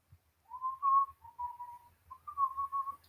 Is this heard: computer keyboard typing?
no